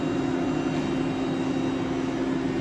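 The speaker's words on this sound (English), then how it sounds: "You can see we have the spindle running" A 2007 Romi M27 x 80 inch CNC manual teach lathe with a Fanuc 21i control runs its spindle, giving a steady, continuous mechanical hum with a constant tonal drone throughout and no talking.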